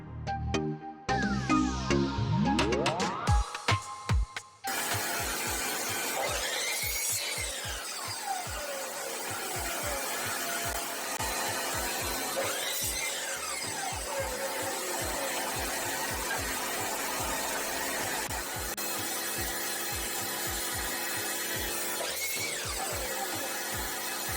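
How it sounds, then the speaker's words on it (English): A miter saw cuts pallet wood: a whirring motor spin-up followed by a long run of rough, rhythmic rasping bites and clunks as the blade works through boards, loud and close. "I'm gonna be selecting each of the best wood in order to go and make the cuts using my miter saw"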